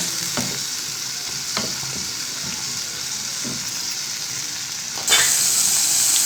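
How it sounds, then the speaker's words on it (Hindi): Masala of tomatoes, salt and turmeric frying for creamy masoor dal, with a steady sizzle, occasional stirring knocks and a brighter hiss near the end. "ये देखिए मसाला हमारा भून रहा है।"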